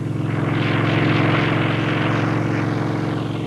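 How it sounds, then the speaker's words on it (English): A single-piston-engine New York Airways helicopter idles at the East River heliport near Wall Street, its rotor throbbing in a rapid, even pulse with a steady engine drone, close and loud throughout. "New York Airways chopper, loading up at the East River heliport near Wall Street, makes the Idlewild trip in 17 minutes."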